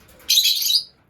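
A lovebird in an aviary gives one loud, shrill squawk lasting about half a second, very close and alone.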